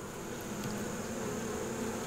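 Honey bees buzzing in an open hive during a late-October inspection of food and brood, a dense, continuous drone close up with no speech.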